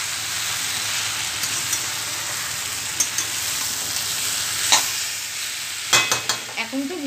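Spiced pumpkin curry with drumsticks being stirred and fried in a village kitchen, a steady close sizzle with scraping stir strokes and clinks throughout, sharper clatters near the end.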